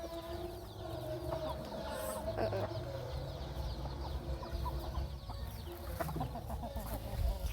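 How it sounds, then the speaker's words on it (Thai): Chickens clucking at a rural farm on a cold, windy day, scattered soft clucks and calls over a steady hum of wind and a refrigerator, fairly faint and distant. "มาเบิ่งไก่"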